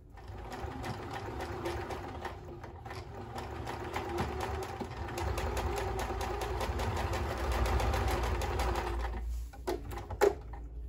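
A sewing machine basts two rows of stitching, running steadily and close for about ten seconds with a rapid mechanical whir, then stopping with a brief clunk.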